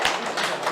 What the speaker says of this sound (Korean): 박수 쳐주세요, 박수.